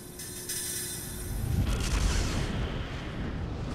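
Video game explosion in Valkyria Chronicles: a deep, rumbling blast swells in around the middle of the clip and rolls on as a sustained low roar with crackling debris, loud and without speech.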